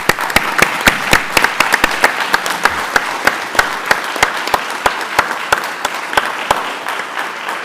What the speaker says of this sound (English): If you would join me in giving them all a round of applause